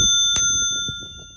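A Bell 2000 bicycle bell on a 7-speed bike gives a single bright ding that rings on with a long, shimmering decay, close and clear over a soft low rumble.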